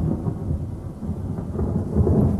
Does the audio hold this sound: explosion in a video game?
no